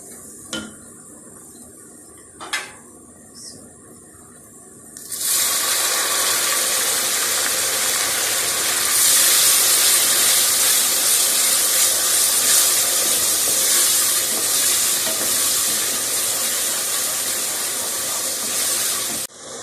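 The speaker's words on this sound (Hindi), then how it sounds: "अब मैं 1/2 कप पानी डालने लगी हूँ।" A loud, sustained hiss bursts out after a few faint clinks, as half a cup of water hits a hot pan of browned onions and keeps steaming and sizzling steadily.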